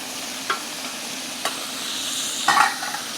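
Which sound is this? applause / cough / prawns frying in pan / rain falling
prawns frying in pan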